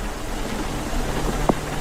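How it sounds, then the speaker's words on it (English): Steady rain falls in a video game, a soft continuous hiss of drops with one brief sharp click near the end. "It's raining."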